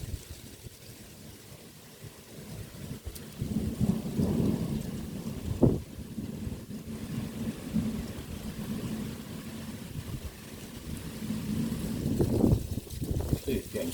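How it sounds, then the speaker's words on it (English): An approaching thunderstorm with wind and rain: a constant rush of wind and rainfall, with low thunder rumbles rolling in twice, the second building louder toward the end. "It's a storm."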